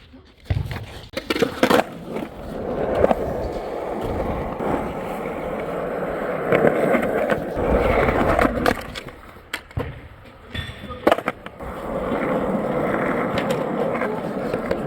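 A skateboard rolling on Powell Peralta Dragon wheels, 54 mm and 93A, producing a steady rumbling roll with swells and dips as it carves and turns, punctuated by sharp knocks and scrapes, close and fairly loud.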